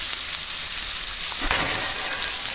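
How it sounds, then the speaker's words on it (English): Bacon sizzles and crackles in a pan, a steady, fairly quiet hiss with one small pop around the middle; no one talks. "what you hear cooking in the background is Rick is cooking up some bacon"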